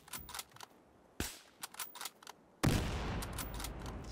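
A favorite sniper rifle fires in Battlefield Hardline: a few sharp gunshot cracks in the first half, then a louder sustained burst of blasting and rumble that runs to the end.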